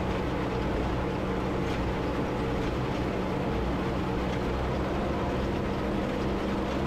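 A tractor runs steadily while baling hay in a swampy field, a loud continuous engine drone with low rumble that stays constant and alone throughout, no voices.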